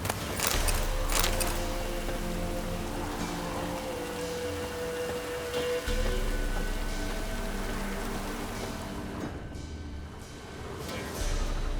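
Rain falling in The Witcher 3: Wild Hunt, a steady patter of drops hitting surfaces across the whole stretch, with a deep low rumble underneath and a few sharper splashes.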